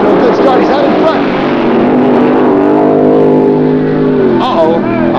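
Supercharged Chevy II drag race cars launch down the strip, a loud, steady engine roar holding near and constant, with a commentator's voice running over it throughout.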